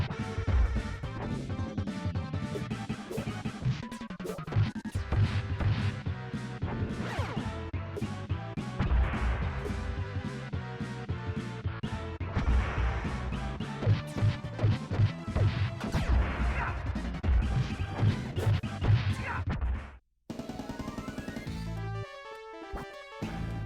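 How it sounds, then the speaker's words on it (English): Turtles in Time on the SNES plays its rocking soundtrack packed with dense crashing, smacking combat effects, loud and continuous, before a brief cut into a sparser, choppier stretch near the end. "Turtles in Time has a pretty rocking soundtrack and decent sound effects."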